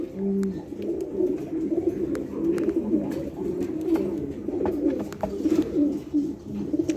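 Pigeons cooing at a pigeon farm, low repeated throaty coos from many birds close by, continuous and overlapping with faint wing flutters and clicks.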